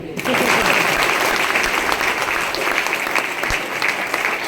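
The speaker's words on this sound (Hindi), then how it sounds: "ताली बजाओ यार" A crowd breaks into steady, sustained applause, dense clapping that holds at an even level throughout.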